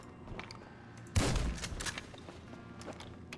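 A sudden loud gunshot burst cracks out mid-clip in GTA Online, followed by a scatter of quieter distant shots and clatter over a low background hum.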